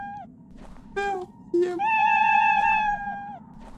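A cat meows several times, with two short mews followed by a longer drawn-out meow. The calls sound close and clear over a quiet background murmur.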